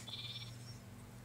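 A goat bleats once, faintly, in Minecraft Pocket Edition over a low steady background hum, brief and distant.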